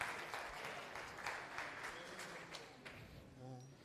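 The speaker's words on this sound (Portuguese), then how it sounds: "palmas para ele se animar." A university calculus class claps to cheer on a student, a moderate, somewhat distant round of applause that thins out toward the end.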